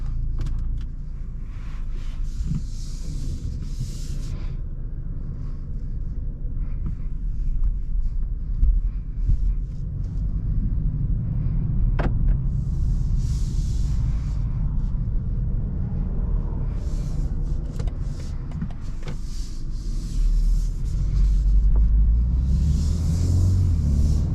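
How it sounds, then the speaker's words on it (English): A 2022 BMW 230i coupe on a test drive, heard from inside the cabin as a steady low engine and road rumble with wind noise, swelling slightly toward the end, with no talking. "Let's go ahead and take this 2 Series on a test drive and see how it does."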